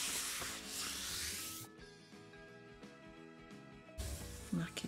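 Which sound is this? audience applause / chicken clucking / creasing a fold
creasing a fold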